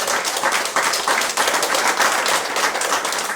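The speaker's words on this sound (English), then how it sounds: "round of applause to the mayor and the chiefs for taking the time to come and answer" Audience at a community meeting on wind turbines in Sheaves Cove applauds the mayor and chiefs, a dense, steady round of many hands clapping that fills the whole stretch without a break.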